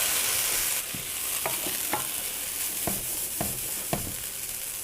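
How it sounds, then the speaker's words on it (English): Rice toasting in a pan with garlic and onion sizzles steadily while a utensil scrapes and stirs it in several distinct strokes, close and alone without talk. "our rice is nicely toasted with our garlic and onion"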